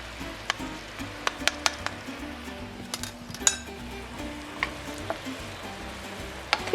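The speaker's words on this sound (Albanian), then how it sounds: "Do ta lëmë të ziejë për 2-3 minuta" A salmon fillet sauce with dill and kashkaval cheese simmers in a pan with a steady soft sizzle, broken by a few sharp clinks of a utensil against the pan.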